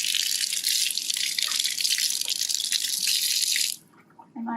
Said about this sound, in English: I need to really rinse it well and dry it